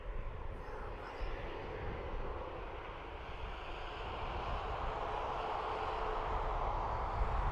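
A Ryanair airliner takes off on the full-length runway at Dublin Airport, its engines giving a broad, steady jet roar that slowly grows louder over several seconds, heard from a distance with no voices.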